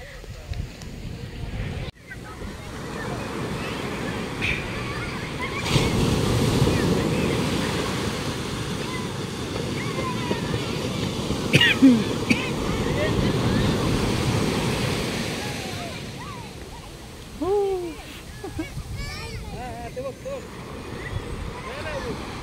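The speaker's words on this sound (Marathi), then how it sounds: "ह्यो असा समुद्र आणि हे असं समुद्राचे लाटा." Steady roar of sea waves washing on the shore at Vengurla harbour, Sindhudurg, with gusts of wind buffeting the microphone throughout.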